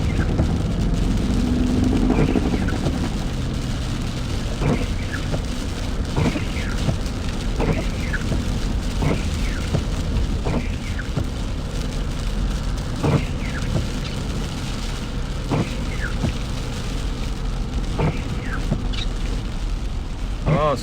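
Rain drums steadily on a vehicle during a severe thunderstorm near Ankeny, a constant hiss beneath rhythmic windshield wiper squeaks sweeping back and forth, with low rumbling throughout.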